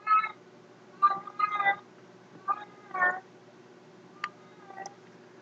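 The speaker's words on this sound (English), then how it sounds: "even Doug's cat is crying." Doug's cat gives a series of short, crying meows, about six brief tonal calls at uneven intervals with small gaps between them, heard close against a quiet room background.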